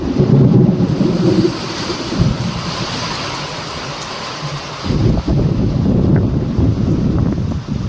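Loud wind roars against the microphone while deep thunder rumbles near an overflowing dam during the monsoon, fading briefly in the middle before swelling again near the end.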